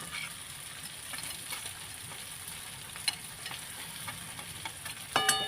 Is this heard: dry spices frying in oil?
yes